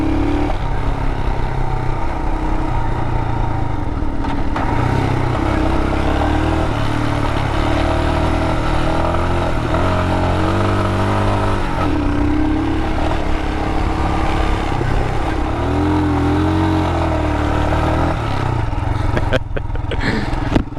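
A 2022 Royal Enfield Himalayan motorcycle running while ridden, its single-cylinder engine droning steadily and loud with shifts in pitch as the throttle changes, mixed with wind rush throughout.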